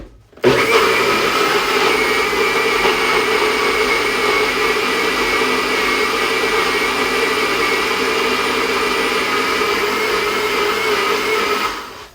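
An electric blender mashing cooked jicama for a keto dish, starting abruptly and running as a loud, steady motor whir for about eleven seconds before cutting off, close and with no speech.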